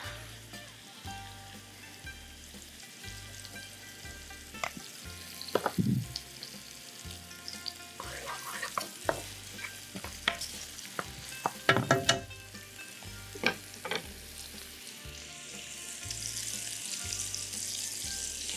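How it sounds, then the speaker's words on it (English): Stuffed pepper filling of ground meat and onion sautés in a pan, giving a steady loud sizzle with stirring scrapes and clatters throughout, alone without talk. "So we're going to saute this a little bit."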